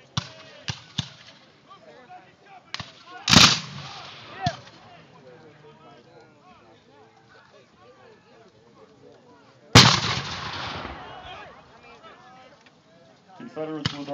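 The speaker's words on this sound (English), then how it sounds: "Confederates with artillery support." Civil War reenactment artillery firing as Confederates push on Federal lines, with two loud, sharp cannon blasts several seconds apart, each trailing off into rumble, amid scattered crackling shots and a quiet background.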